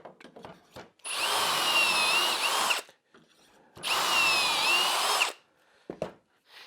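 Two long bursts of a power drill boring into wood for an end table, each about two seconds, loud and close, with quiet handling noises between them.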